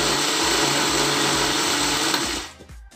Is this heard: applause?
no